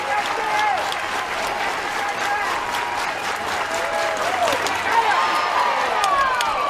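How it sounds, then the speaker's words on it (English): A large softball crowd at an NCAA Super Regional game between Oklahoma and Alabama cheers and applauds steadily, a dense, sustained roar of clapping and voices with a few louder swells. "Oh, you can feel the energy from the crowd."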